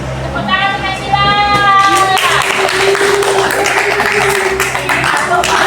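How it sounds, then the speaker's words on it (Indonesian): Students in a classroom clap for a classmate, scattered hand claps sounding close and fairly loud for several seconds, with voices heard just before and alongside. "Tepuk tangan untuk Nesila."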